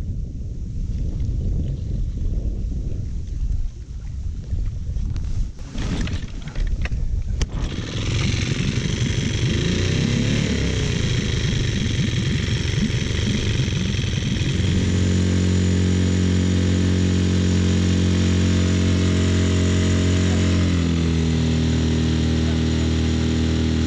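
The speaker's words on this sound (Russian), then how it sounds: "вот такой вот у нас мотор тут" A boat's outboard motor runs steadily on a fishing trip near Astrakhan, loud and close with heavy wind rumble; it revs up after a few seconds, then settles into a constant drone with a pitch shift near the end.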